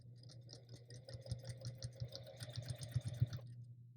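A domestic sewing machine stitching during free-motion quilting, a fast regular mechanical chatter of needle strokes with a low motor hum, starting and stopping after about three and a half seconds, quiet and close with no talk.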